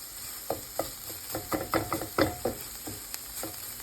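Ham, peppers and onions frying in a pan: a soft sizzle under a series of distinct stirring scrapes and utensil taps against the pan, irregular and close, with no one talking.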